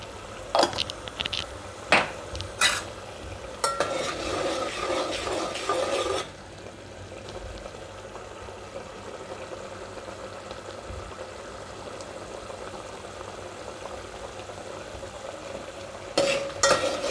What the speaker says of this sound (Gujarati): આ રીતે વચ્ચે વચ્ચે હલાવતા રહેવાનું